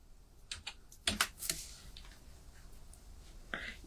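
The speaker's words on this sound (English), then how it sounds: "I'll type in plans." Typing on a computer keyboard, a few quick, close key clicks in short bursts with pauses between them, then a final pair of taps, quiet and without speech.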